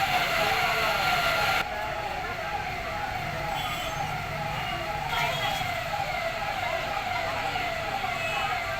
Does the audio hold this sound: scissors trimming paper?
no